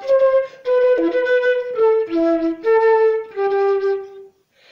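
A solo flute plays a smooth, connected phrase of clear sustained notes in an even lilting rhythm, close and fairly loud with no talking.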